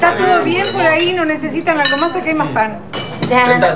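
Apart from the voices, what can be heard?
glasses clinking in a toast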